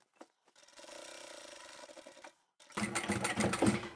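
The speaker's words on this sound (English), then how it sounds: "over the handle I'll triple stitch at the top as well" A domestic sewing machine runs steady bursts of stitching while triple stitching across a fabric tote bag handle, with a short whirring run, a brief pause, then a louder, faster stretch of rapid stitching close up.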